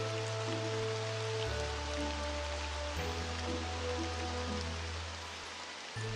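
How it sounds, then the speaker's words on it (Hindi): Steady cartoon rain patters in a dense, even hiss, with low background tones shifting underneath as if music plays quietly along. "तभी वहां पर अचानक बारिश आ जाती है।"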